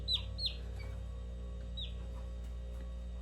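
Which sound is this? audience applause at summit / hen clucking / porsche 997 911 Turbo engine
hen clucking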